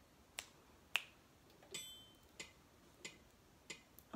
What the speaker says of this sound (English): And that sound is called a metronome.